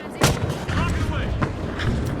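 A rocket launched in a first-person shooter video game, a sharp close blast followed by a rumbling explosion and ongoing gunfire chatter, with a voice talking over it.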